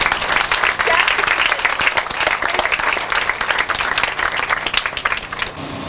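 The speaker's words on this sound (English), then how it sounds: "we should just give them a round of applause." An audience claps at a rodeo royal crowning ceremony, dense sustained applause from a crowd filling the whole stretch, loud and close, tapering slightly toward the end.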